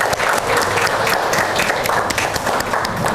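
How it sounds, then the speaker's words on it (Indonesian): A classroom group at a vocational high school applauds, a dense, steady wash of many hands clapping at close range that fills the whole stretch without pause. "Oke, tepuk tangan."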